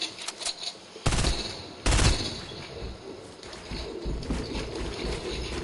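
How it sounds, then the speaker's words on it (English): Video game gunfire bursts out in two loud, sharp volleys, followed by a steady rattle of lighter shots and ambient noise; no voices are heard. "Who's shooting at me?"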